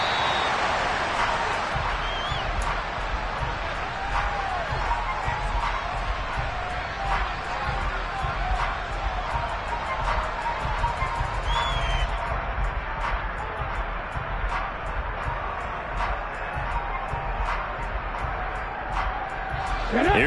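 Dense, loud stadium crowd roar at a Seattle Seahawks NFL football game, a continuous wall of noise from a packed venue with no clear breaks.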